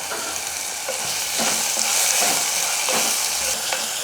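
Onions and tomatoes with salt sauté in a pan, a steady, fairly loud sizzle punctuated by several spoon scrapes and stirring clicks, heard close with no talking.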